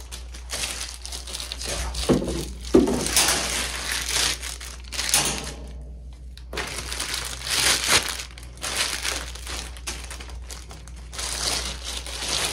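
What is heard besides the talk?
crinkling plastic packaging removed from ACC Crappie Stix pole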